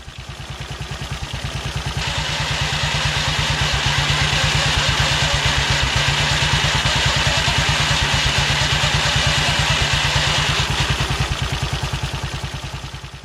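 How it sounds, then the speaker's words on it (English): A Matchless G3L WD motorcycle with a Burman CP gearbox running with a strange transmission noise from a worn main shaft bearing spinning in its housing, a steady rapid mechanical clatter over the engine beat, loud and close throughout with no talk. "I'm doing this because of a strange noise from the transmission. Here it is again."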